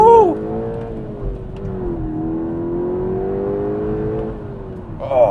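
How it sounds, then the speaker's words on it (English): A Mk2 SEAT Leon Cupra R accelerating hard on an open road, its engine note climbing steadily through a gear as heard from inside the cabin, with a brief gear-change dip and a rising whine at the end. "Okay, let's stamp on the loud pedal again."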